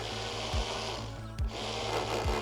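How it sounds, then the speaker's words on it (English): Hammer drill boring into a wooden fence post, a steady grinding whir with a rapid low pulsing hammer rhythm, close and continuous over a short stretch. "starting it off slow, switching to hammer and drilling to just the middle of the post."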